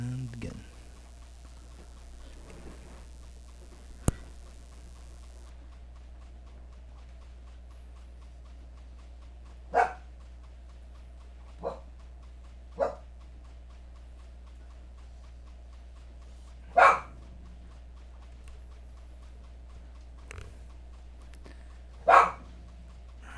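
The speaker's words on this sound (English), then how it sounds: "Right, my dog is very noisy." A dog barks several times in short, separate bursts over a steady low hum, with game sounds in the background.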